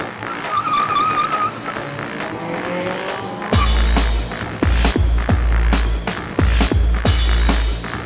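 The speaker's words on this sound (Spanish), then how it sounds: "Esto es una carrera de carro lado a lado por 400 metros," Cars race side by side in a quarter-mile drag race at an urban tuning event in Envigado, Medellín: a distant whine and tire squeal give way to a loud, close roar of engines with sharp revving bursts and gear changes.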